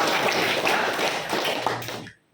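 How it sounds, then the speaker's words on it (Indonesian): A classroom of students claps for a classmate in one brisk burst of dense applause lasting about two seconds before stopping abruptly. "Tepuk tangan buat Elsa."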